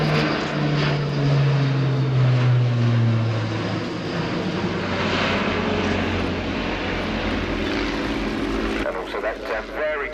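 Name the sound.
Airbus A400M Atlas aircraft flying display turn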